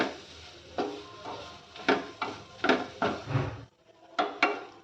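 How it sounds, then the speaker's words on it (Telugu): Carrot pieces stirred while frying in a pan, with a series of close, distinct scraping knocks of a spatula against the metal roughly every half second, a short pause, then a few more strokes, over a faint background sizzle. "ఒక 3 to 4 మినిట్స్ దాకా మనం ఈ విధంగా క్యారెట్ని చక్కగా వేయించుకోవాలి"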